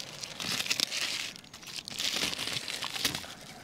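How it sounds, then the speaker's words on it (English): Scissors cut through butyl damp-proofing tape with crinkling, tearing snips and rustles that go on steadily and close by. "I'm going to see if I can cut it down with some scissors as well"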